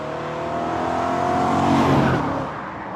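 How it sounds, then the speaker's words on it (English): A rebuilt BMW E92 M3 with a 4-litre German V8 engine, driven on the road; the engine drones steadily and loudly, its pitch rising and swelling toward the middle before easing off. "Driving this big old 4-litre German V8, it's literally one of my dream cars."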